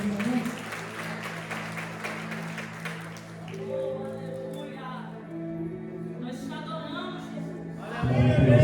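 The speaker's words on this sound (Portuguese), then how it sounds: "E aplauda o Senhor em nome de Jesus." A church congregation claps and applauds at the close of a prayer, a steady wash of hands over sustained organ or keyboard tones, with a swell of louder sound near the end.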